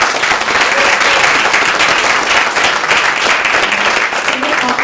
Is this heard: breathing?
no